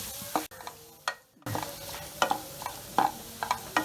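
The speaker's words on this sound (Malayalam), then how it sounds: "നന്നായിട്ട് വഴന്ന് വരുന്നവരെ നമുക്ക് അതൊന്ന് ഇളക്കി കൊടുക്കാം." A spoon stirs sliced onions sautéing in a pan for Kerala-style beef roast, making sharp scraping clinks against the pan over a soft steady sizzle, with a brief quiet break early on.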